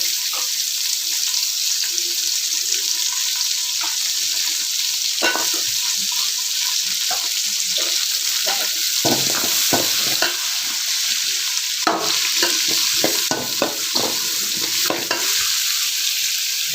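Small onions with rock salt sizzle steadily in a hot pan for fish curry, a dense continuous frying hiss with scattered crackles and stirring clatters close by, no talking.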